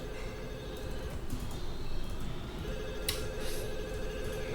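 A telephone rings in an episode of the sitcom Friends, a bright repeated electronic trill in two or three bursts over a steady background hum, fairly close and loud with no speech.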